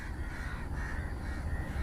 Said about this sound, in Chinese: 这边的乌鸦真的有点多啊